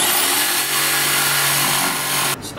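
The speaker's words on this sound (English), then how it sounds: "we just take a standard jigsaw. This one uses a blade that cuts down, so it leaves a nice finish on the" A standard jigsaw with a down-cutting blade sawing a hole through formica, a loud steady high-pitched buzzing cut up close that stops abruptly near the end.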